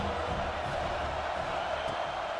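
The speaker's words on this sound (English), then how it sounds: "Big 3rd down as the crowd gets behind this defense" Stadium crowd noise in College Football 26 on a big third down: a dense, steady roar of cheering fans, loud and unbroken throughout.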